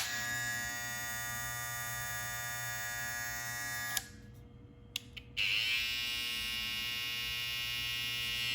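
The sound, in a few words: BaBylissPRO Skeleton FX rose gold hair trimmer running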